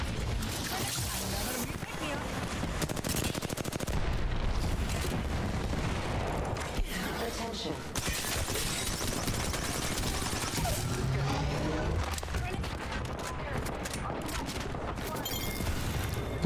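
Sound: gunfire in the video game Apex Legends

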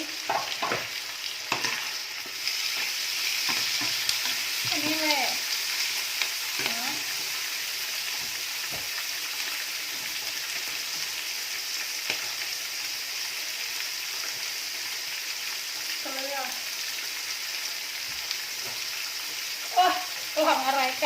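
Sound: stir-frying garlic and shallots with seasonings

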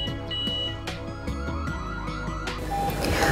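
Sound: G90B alarm system siren beeping

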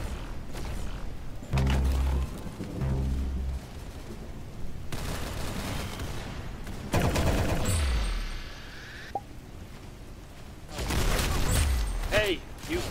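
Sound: gunfire

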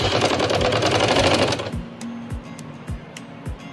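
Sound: sewing machine stitching an umbrella frock

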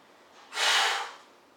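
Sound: deep breathing before planche pushups

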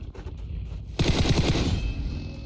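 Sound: gunfire in the video game PUBG

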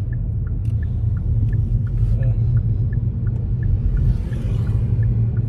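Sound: car driving for an Uber ride in Paris

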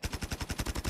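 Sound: gunfire in a video game

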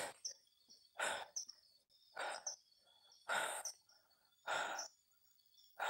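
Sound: baby chicks chirping

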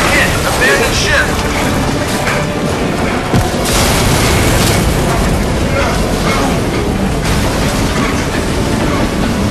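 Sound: explosion hitting submarine hull in video game Crysis 2

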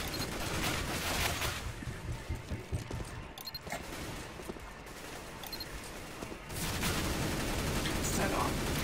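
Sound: gunfire in the video game CS:GO

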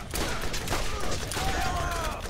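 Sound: gunfire in the video game Borderlands

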